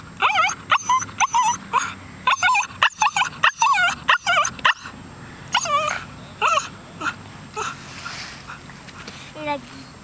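A dog barks in quick bursts, then whimpers and yips in higher, whining tones, loud and close, with a brief pause midway before softer whines trail off.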